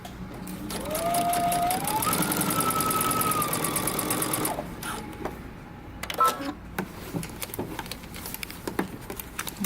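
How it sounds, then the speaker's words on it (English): A sewing machine back-stitches a dress neckline seam, running in a loud steady whir for about four seconds with a rising motor tone, then stopping before a few short clicks and light handling noises. "I'm going to back stitch."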